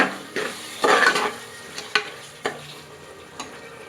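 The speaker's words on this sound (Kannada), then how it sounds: "ಹಾಗೆ ಇವಾಗ ಒಂದು ಒಳ್ಳೆ ಮಿಕ್ಸ್ ಕೊಟ್ಬಿಡಿ, ಒಂದು ಸ್ವಲ್ಪ ಮಸಾಲೆ ಸ್ಮೆಲ್ಲೆಲ್ಲ ಕಡಿಮೆ ಆಗೋ ತನಕ." A spoon stirs masala for chicken biryani in a frying pan, giving several brief scraping strokes over a soft sizzle, close and fairly quiet.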